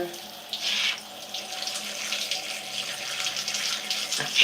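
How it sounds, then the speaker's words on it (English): Water running from a tap while being added to sections of hair during a wash-and-go styling routine, a steady close splashing hiss with brief louder spurts and no talk. "just adding water to each section because I'm not gonna add any after"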